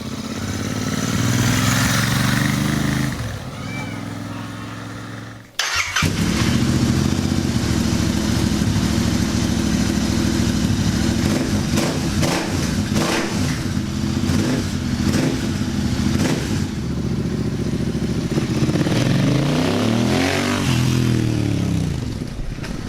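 A Royal Enfield Interceptor 650 fitted with an aftermarket exhaust rumbles loudly and steadily nearby, with a brief dip before the engine note resumes and holds a strong continuous drone.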